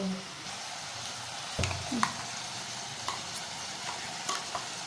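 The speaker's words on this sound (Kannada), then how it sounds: "ನಾವು ಮಾಡಿರೋಂತಹ ಮಸಾಲನ ಇವಾಗ ಇದಕ್ಕೆ ಆ್ಯಡ್ ಮಾಡ್ತಿದ್ದೀನಿ" Thick masala paste is stirred into partly cooked Guntur-style chicken in a pan, giving quiet scraping strokes and a soft, continuous sizzle with a few sharper clinks of the spoon.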